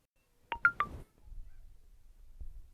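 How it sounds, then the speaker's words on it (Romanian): Three quick electronic notification tones from a phone, bright and distinct, followed by low rumbling background noise during a Minecraft survival game session. "Telefonul, notificările,"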